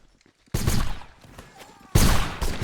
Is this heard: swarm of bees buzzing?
no